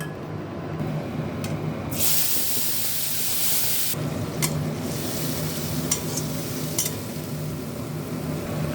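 Ground spice paste hitting hot oil for a Bengali mushroom curry, a loud hissing sizzle that bursts in around two seconds, eases, then flares again near four seconds with stirring scrapes, no talk.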